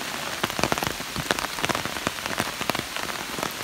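Steady rain falls at a dark tunnel entrance in a state park, with close, irregular drops pattering over a continuous hiss throughout.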